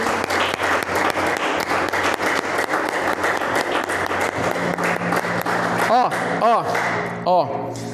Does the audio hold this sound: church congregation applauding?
yes